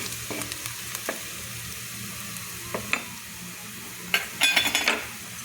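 Spinach paste sizzles steadily in a hot pan, with a few scattered clicks, then a burst of clinking utensil scrapes as it is stirred near the end.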